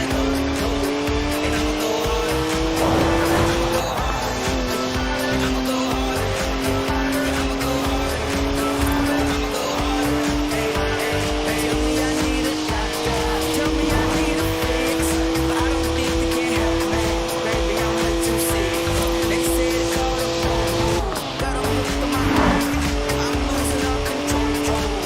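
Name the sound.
BMW car tires squealing and smoking in Forza Horizon 4 video game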